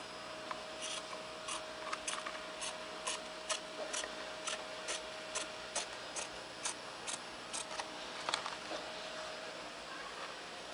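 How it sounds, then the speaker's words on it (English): Scissors snip quietly and repeatedly in a fairly even rhythm, close up, with faint rubbing between cuts and no talking. "you just take your scissors and go ahead and trim"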